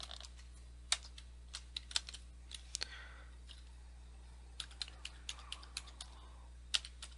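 Someone typing a password on a computer keyboard, a sparse run of close, crisp key clicks with uneven pauses over a faint steady hum.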